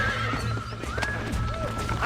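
A spotted horse in the Western video game Red Dead Redemption 2 gives a clear whinny over steady hoof clip-clops and game ambience, with a faint voice in the background.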